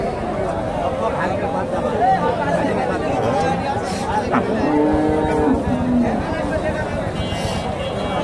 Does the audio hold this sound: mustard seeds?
no